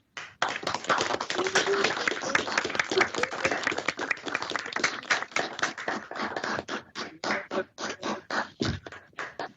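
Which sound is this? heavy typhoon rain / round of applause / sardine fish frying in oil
round of applause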